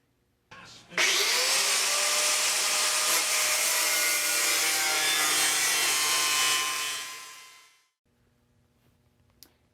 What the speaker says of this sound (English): I'm going to get the angle grinder out. I'm just going to cut straight across on that line.